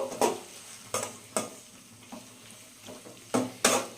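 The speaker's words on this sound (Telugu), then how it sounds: "కాసేపు వీటిని ఫ్రై చేసుకుందాము" Spoon stirring okra in chilli masala in a pan, with a steady sizzle of frying. Several sharp scraping strokes punctuate the sizzle at irregular intervals, close and fairly loud, with no voices.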